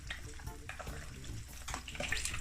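Flour-coated honey mustard chicken frying in hot oil, giving a steady crackling sizzle with small popping bursts, close and moderately loud and free of talk.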